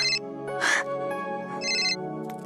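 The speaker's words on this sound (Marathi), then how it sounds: "अगं तुझा फोन आलाय." A telephone rings indoors in two bursts of a bright electronic ringtone, clear and close, with a quiet pause between them.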